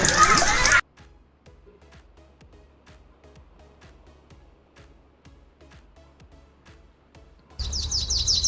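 A myna bird gives a steady series of short, sharp chirps, repeated at an even rhythm between louder stretches of music at the start and end.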